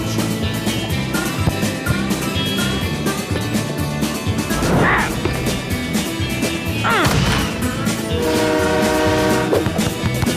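A train rumbles past during a soccer match, its horn blasting in sustained tones near the end over a dense, busy background.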